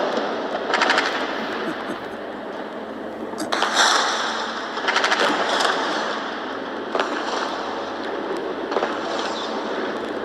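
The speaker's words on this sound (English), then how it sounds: "Should I lower the gun shooting?" A recording of machine gun fire plays with steady rapid bursts, several volleys in a row at fairly even loudness, with no one speaking over it.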